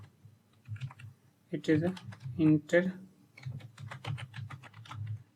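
Keys clack on a computer keyboard while a code comment is typed in a TypeScript editor, a steady run of light clicks under a man's speech throughout.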